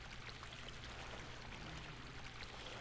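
Steady rushing water flows in the Dark Souls video game, a constant broadband wash with no break, moderately quiet and heard alone.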